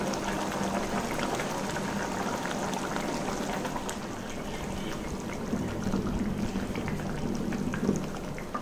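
Tamarind fish gravy boiling steadily in a pan as fish pieces go in, a dense continuous bubbling and sizzling hiss that holds at an even level throughout.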